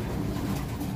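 Racing pigeon cooing softly while held in the hand at a loft, a low continuous murmuring coo close to the microphone with no talking.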